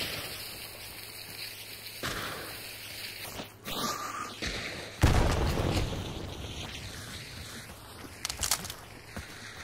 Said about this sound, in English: He's throwing a frag.